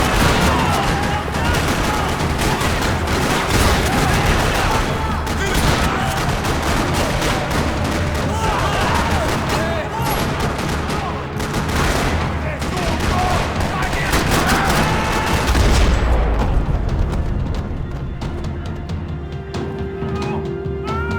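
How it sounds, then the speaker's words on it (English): Sustained bursts of rapid gunfire in a parking lot in Max Payne 3 rattle almost nonstop, dense and loud, with a brief lull near the end before shooting resumes. "Another parking lot rattling with gunfire."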